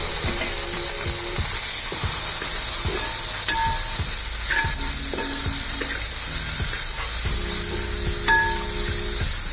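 Cooked potato pieces fry and get stirred in a pan for sabudana khichdi, a steady loud sizzle with repeated scraping strokes of the spoon running throughout, no voices.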